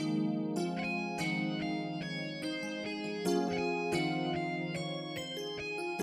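A gritty Les Paul-style synth lead from Xenology with an electric-guitar edge plays a quick run of sustained, overdriven notes, each attack sharp and the tone bright.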